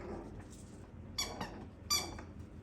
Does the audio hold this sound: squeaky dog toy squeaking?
yes